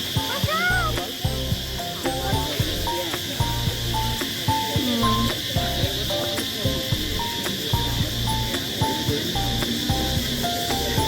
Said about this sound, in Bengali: আর এই ঝিঝি পোকা ডাকতেছে